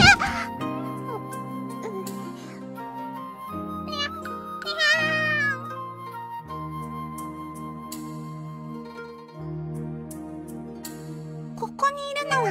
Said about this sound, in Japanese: ここにいるのは猫なのだ。